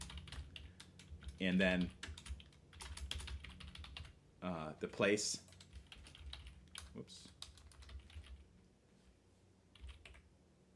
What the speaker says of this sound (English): Generally what I've been doing is just typing in a name